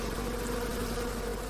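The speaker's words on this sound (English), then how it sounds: "The bees swarm to the spot to attack the robber with their stings." Bees swarming and buzzing as they attack a moth raiding their stores, a dense, continuous buzz with a steady hum throughout, close and sustained.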